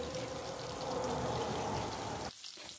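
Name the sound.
potato pieces frying in oil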